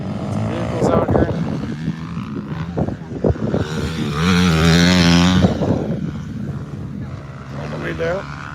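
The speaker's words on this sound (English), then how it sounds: "Lots of vehicles out here." Vehicles passing outdoors, one louder engine swelling near and fading around the middle, with a steady traffic rumble and people talking over it throughout.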